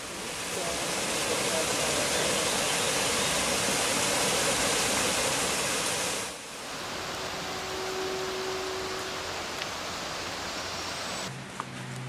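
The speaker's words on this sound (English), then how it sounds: "enjoy the sounds of the water flowing in the local creek" Water rushes steadily down a local creek along a nature path near Lucerne, Switzerland, as a dense, close, continuous wash that drops a little in level partway through and then carries on.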